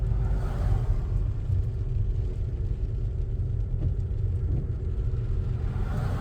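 A learner driver's car cruises steadily along a road on the way to work, its engine giving a continuous low rumble with road noise, close and even throughout, with no talking.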